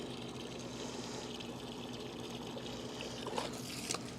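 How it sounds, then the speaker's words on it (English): A bucket fills with water from a tap beside a car for wet-sanding a Chevy Colorado headlight, a steady broadband rush and trickle running throughout with a couple of brief splashy bursts near the end. "we'll get this bucket filled with water"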